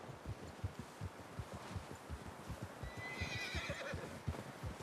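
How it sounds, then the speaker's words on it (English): Steady clip-clopping hooves keep an even rhythm throughout, and partway through a horse lets out a high, wavering neigh, in the video game Red Dead Redemption 2. "How's that new horse?"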